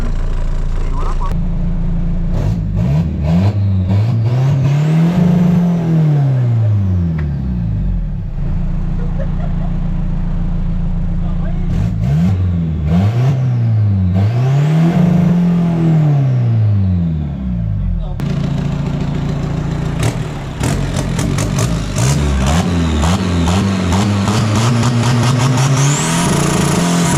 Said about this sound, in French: je vais vous montrer un petit coup de rupture après, je laisse un petit peu chauffer le véhicule